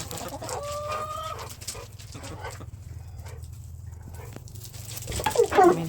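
Backyard chickens cluck and murmur softly at close range, with scattered bird calls and a steady low background hum, growing busier and louder toward the end.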